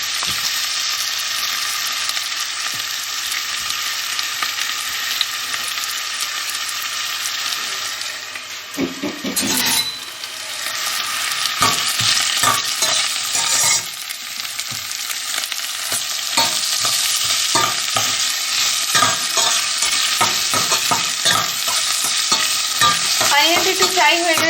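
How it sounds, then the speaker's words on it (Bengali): Onions with chopped ginger fry in a generous amount of oil, a loud continuous sizzle with frequent stirring scrapes and clatter, briefly quieter near the middle before the hiss swells again. "এটাকে ফার্স্টে ফ্রাই করব।"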